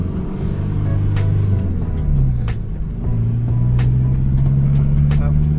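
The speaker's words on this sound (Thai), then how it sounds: "มาเดี๋ยวมาทดลองขับขี่กันนะครับ แต่การเร่งดีนะบูดบูดเลยนะครับเนี่ยนะ" Isuzu D-Max Gold Series pickup truck engine pulling steadily on a test drive in the rain, a continuous low rumble whose pitch dips and then climbs again as it accelerates, with faint higher clicks above.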